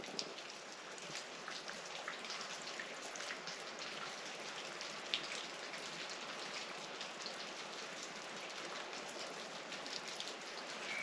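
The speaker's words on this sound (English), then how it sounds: "It's all the water just condensating and running down this incredible landscape in here, Cania Gorge." Water condensing and trickling down the rock faces of Cania Gorge, heard as a faint, continuous patter of drips and thin running water, steady and even throughout with no voices.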